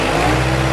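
Bad Boy riding mower engine held at mid-range revs, recorded close from the driver's seat as a steady, loud mechanical drone with a low rumbling hum throughout the short moment.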